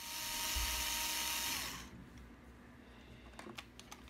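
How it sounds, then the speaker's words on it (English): A power driver runs a screw through the plastic steering block of a Traxxas Stampede 2WD, giving a loud, close whine for under two seconds. A few light clicks of handling follow, with no talking. "Go ahead and screw this screw through the plastic of the steering block first."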